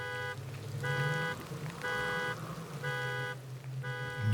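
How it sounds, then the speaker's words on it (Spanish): A pickup truck alarm blares in repeating electronic bursts, five regular pulses with short gaps, heard over the steady patter of rain. "la alarma de la camioneta empezó a sonar"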